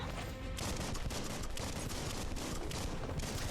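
Rapid gunfire from the Biomutant video game: dense, continuous bursts of shots at steady loudness through the whole stretch, with no voices over them.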